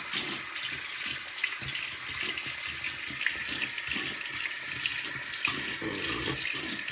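Water gushes steadily from a bathroom tap into a sink while a face is wetted before a razor shave, a close, continuous hiss with small splashes and no voices.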